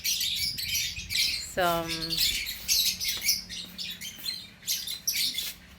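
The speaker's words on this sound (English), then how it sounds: "They are lovebirds" Lovebirds in a bird park chirp and squawk in bright, repeated calls, with one longer harsh squawk standing out, close by while a person speaks briefly underneath.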